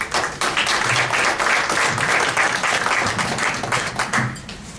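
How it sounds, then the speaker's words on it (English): An audience at a college unity celebration applauds steadily after a poet is introduced, with dense, even clapping that holds for several seconds and eases off at the end. "This is applause."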